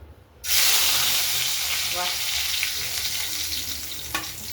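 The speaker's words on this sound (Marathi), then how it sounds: "आता आपण देऊ सगळ्यात पहिले कढीपत्त्याची फोडणी" Fresh curry leaves drop into very hot oil for a tempering in a spicy moong dal amti, setting off a sudden loud crackling sizzle that holds steady, with a couple of stirring clicks.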